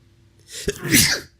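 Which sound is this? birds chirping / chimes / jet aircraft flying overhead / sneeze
sneeze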